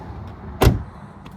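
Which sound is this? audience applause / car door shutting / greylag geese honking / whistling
car door shutting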